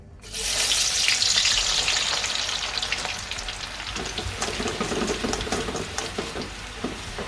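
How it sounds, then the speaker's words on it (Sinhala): Garlic sizzles and crackles in hot oil, a loud steady fry that starts abruptly and continues with popping bursts throughout. "දැන් මම ඊළඟට බදින්නේ මෙන්න මේ සුදු ලුණු ටික."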